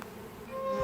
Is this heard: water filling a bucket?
no